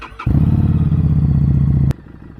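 A motorcycle engine fires up at the press of its start button, starter and ignition catching into a loud, close, rumbling idle for about a second and a half, then cutting abruptly to a quieter tail.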